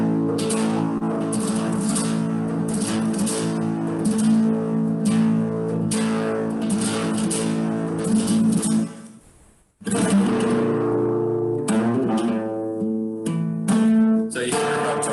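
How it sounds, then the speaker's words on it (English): Flamenco guitar playing in the seguidillas style: bright strummed chords and rapid rasgueado bursts, close and loud, broken by a brief pause partway through before the strumming resumes, with no voices. "This is called seguidillas. Seguidillas is one of the more ancient styles of flamenco."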